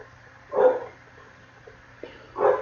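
A dog barking from a room downstairs, two muffled barks spaced about two seconds apart over a quiet indoor background.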